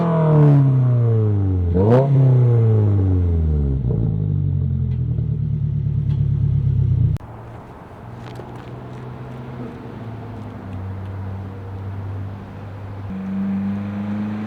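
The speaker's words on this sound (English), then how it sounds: "still not like as loud as I'd like it to be, but at the same time, it's pretty damn good for just an axleback exhaust" A Subaru WRX fitted with an axleback exhaust revs hard, its engine note sweeping up and down in repeated climbs, then dropping abruptly to a steady, lower idle-like drone with occasional small blips; close and loud throughout.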